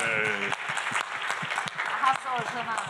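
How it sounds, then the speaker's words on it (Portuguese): Audience applause at a literary festival talk, dense and steady for about three seconds, with voices calling out and talking over the clapping. "Uma salva de palmas, por favor"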